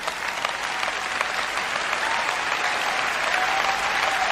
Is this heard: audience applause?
yes